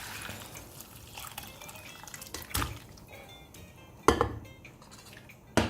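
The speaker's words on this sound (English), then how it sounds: "We are going to take this potli and slightly squeeze it to remove any liquid that's in there" Spice potli being squeezed and cooked mutton chops strained in a kitchen, with wet dripping and trickling liquid under clinks of metal pot and utensil, sharp clatters near the end.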